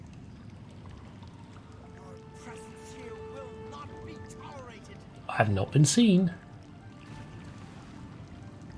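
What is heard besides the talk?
water splash in video game Oblivion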